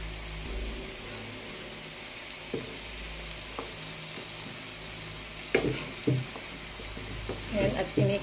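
Sardines and sliced calabash sizzle steadily in a pan, a soft, even frying hiss broken by a few clinks and stirring scrapes, sharper and busier toward the end.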